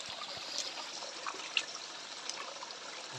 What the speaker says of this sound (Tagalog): At ayan nga, meron siyang sapa.